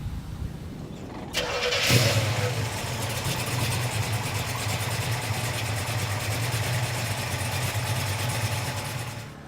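A 1970 car with a 396 engine cranks briefly, catches and settles into a steady, deep, rumbling idle, loud and close, with no talking over it.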